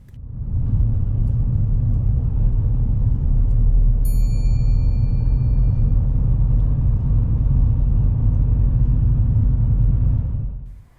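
A car slows on approach to a roundabout and changes down through its gears, heard from inside as a loud steady low rumble of engine and road noise, with a brief high chime partway through and no talk.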